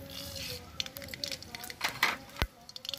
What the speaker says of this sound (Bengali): এই তেলে সম্বাদ দিয়ে দেবো। শুকনো লঙ্কা দিলাম, সরিষা দিলাম